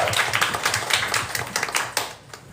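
Audience applause for a panel of women in music on stage at an arts venue in Detroit, a dense, steady patter of many hands clapping close by, thinning slightly toward the end.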